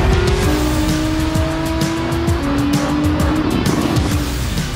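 A Nissan GT-R NISMO GT3 race car in Gran Turismo 7 drives hard with a loud, sustained engine note that shifts pitch through gear changes, and tires squeal repeatedly through the corners.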